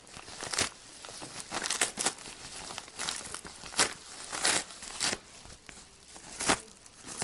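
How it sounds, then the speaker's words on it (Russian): A parcel wrapped in bubble wrap being opened by hand, with repeated crinkling and tearing bursts of plastic at close range, some sharp crackles standing out, and no talking. "Ну, пакет, да, с пакета, с пупыркой."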